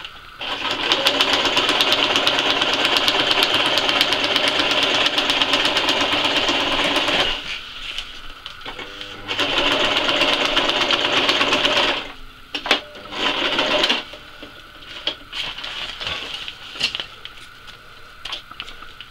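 A sewing machine stitching a hem along a DPM camouflage tarp runs in long steady rapid bursts, pausing and restarting with short reverse-stitch runs, close and loud with no talking.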